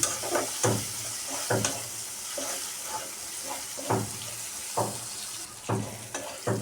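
Green chilies frying in oil for a stir-fry of taro flowers with prawns, a steady close sizzle broken by repeated rhythmic scrapes and clacks of a stirring spoon against the pan.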